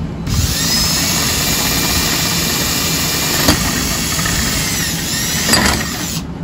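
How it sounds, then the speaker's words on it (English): A power drill bores through the hinge of a Lifetime plastic storage shed, a loud, continuous whining drone held for several seconds with a couple of brief knocks before it stops. "They give you a drill bit, you gotta drill that all the way through."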